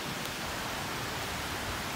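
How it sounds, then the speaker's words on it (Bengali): Rain falls steadily after a hot day, a dense, even hiss of drops with no break and no voices. "গরমের পর বৃষ্টি নামতেছে"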